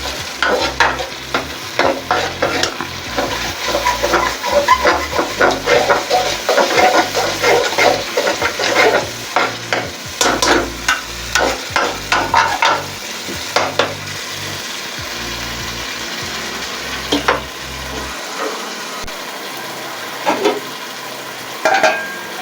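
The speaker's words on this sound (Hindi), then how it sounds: "तकरीबन 5 मिनट तक भुनाई करनी है इसकी, फिर हमारा मसाला ये रेडी हो जाएगा।" Masala of chillies and fresh mint roasting and stirred in a pan for grilled chicken tikka biryani, a steady sizzle with repeated scraping strokes, loud and close, easing off to a quieter fry near the end.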